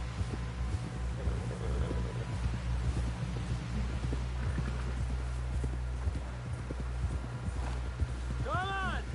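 Horse galloping in the video game Red Dead, with rapid rhythmic hoofbeats pounding steadily under the ride and a brief whinny near the end.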